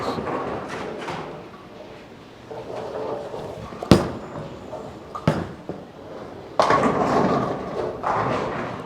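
A Storm DNA bowling ball is released with a heavy thud, rolls down the lane under a steady rumble, and crashes into the pins in a loud clatter, set against a noisy alley background.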